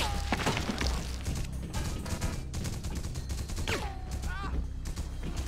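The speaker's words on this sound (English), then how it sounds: "Shotgun." Shotgun blasts in The Punisher video game, with loud booming shots and impact crashes going off repeatedly over a busy background of game sound and scattered voices.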